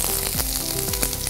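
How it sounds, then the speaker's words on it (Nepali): Green chili and onion fry in hot oil, a steady close sizzle running throughout with faint stirring clatters and no talk. "त्यही भएर लक्सरै हामी ग्रिन चिली हाल्ने बित्तिकै हामीले अनियन हाल्न थाल्छौँ"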